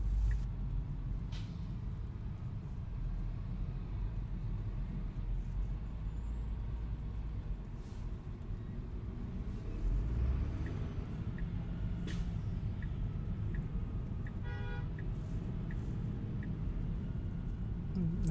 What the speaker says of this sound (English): evening rush hour traffic